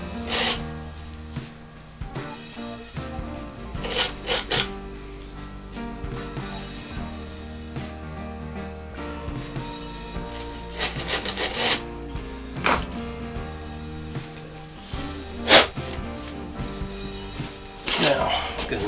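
A brush scrubbing down a wooden surface before stripping and sanding: repeated rough bristly strokes in uneven bursts, close and fairly loud, with a speaking voice mixed in at times.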